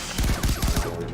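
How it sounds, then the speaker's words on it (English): Rapid bursts of gunfire in Far Cry 3 Blood Dragon, several close loud shots in a quick rhythmic volley lasting about a second, with no talk over it. "the guns all sound great and are very fun to use"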